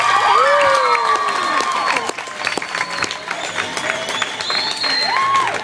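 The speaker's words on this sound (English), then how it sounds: "give them all a big round of applause one last time" Audience applause and cheering at a live show, steady clapping with loud whoops and high shouts over it, sustained for several seconds.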